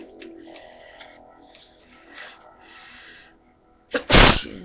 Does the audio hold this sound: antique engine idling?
no